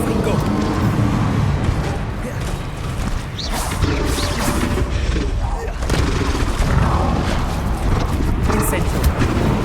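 In Hogwarts Legacy, a Confringo fire blast spell bursts out amid dense, continuous combat noise: booming impacts, crackling and rumbling layered with shouted voices, loud throughout.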